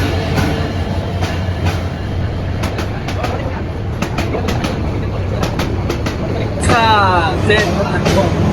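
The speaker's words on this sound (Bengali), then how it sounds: "ট্রেনটি প্ল্যাটফর্মে এসে পৌঁছায় ঠিক রাত বারোটায়" A train pulls into the platform at night at the airport railway station, on a journey toward Cox's Bazar. Loud rumbling is punctuated by repeated wheel clacks and a rising brake squeal near the end, with voices murmuring underneath.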